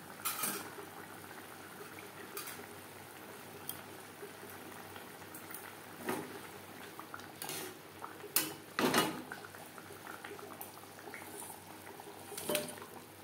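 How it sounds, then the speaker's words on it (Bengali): Gravy for a katla fish curry bubbles softly in a pan, a faint simmering texture broken by occasional clinks of a utensil against the cookware. "গ্রেভি বেশ ভালো করে ফুটতে শুরু করে দিয়েছে।"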